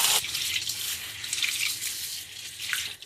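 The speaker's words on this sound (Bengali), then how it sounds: "এখন আমি পানি দিয়ে পরিষ্কার করে সব কিছু ধুয়ে নেব।" Water runs steadily from a tap over red lentils and green mung beans being rinsed in a bowl, a continuous close hiss and splash with no talking.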